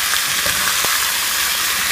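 Pork ribs fry with onion and garlic in a pan, making a loud, dense, continuous sizzle with one brief stirring knock partway through.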